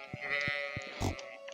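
A sheep bleats in the farming video game Stardew Valley, one drawn-out wavering cry over light game music and soft thudding footstep sounds, clear and close.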